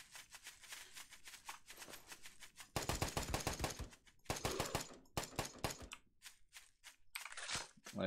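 Rapid bursts of gunfire from a night-time zombie survival video game, loud machine-gun volleys and single shots crackling in uneven clusters, with quieter patches of shuffling between bursts.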